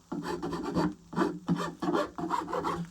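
A hand file rasps back and forth across wood, cleaning off coarse file marks in a workshop, in four distinct bursts of strokes, close and fairly loud with no talk.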